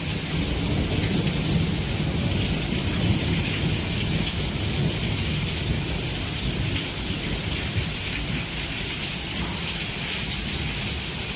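Heavy rain pours steadily with thunder rumbling low beneath it, a dense continuous wash of falling water and runoff that stays loud and unbroken throughout, with no voices.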